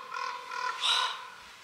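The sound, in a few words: birds calling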